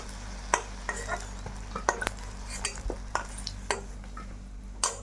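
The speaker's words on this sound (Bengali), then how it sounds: "এভাবে আমি বাকি বেগুনটাও ভেজে নিব।" Eggplant slices fry in oil in a pan, with a soft sizzle under scattered sharp clicks and scrapes of a utensil stirring and turning the pieces, close and fairly quiet.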